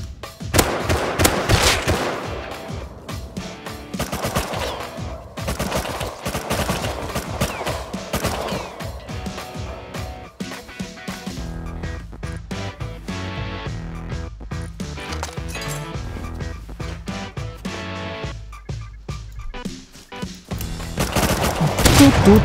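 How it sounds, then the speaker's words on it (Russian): Automated turret firing in the survival game Rust, rapid strings of machine-gun bursts repeating through the whole stretch, loud and close, with a few brief pauses between volleys. "А, нет, турель."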